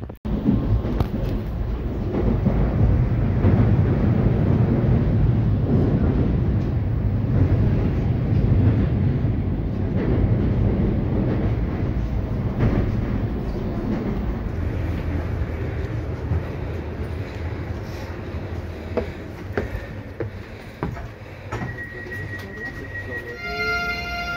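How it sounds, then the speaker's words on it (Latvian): Electric train at Torņakalns railway station in Riga, a long steady rumble of rolling wheels and motor hum that gradually fades, with brief higher squeals near the end. "Toņkalna stacijā pietur elektrovilcieni"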